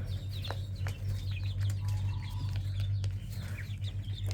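Chickens on a poultry farm cluck and chirp in scattered short calls, some near and some farther off, over a low, steady mechanical hum.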